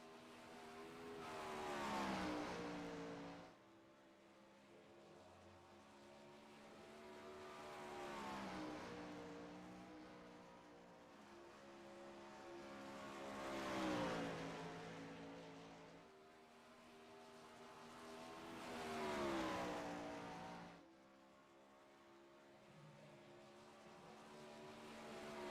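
A sprint car runs a qualifying lap at Williams Grove, its engine swelling loudly each time it passes close, then fading down the straights, repeating about every five seconds over the lap.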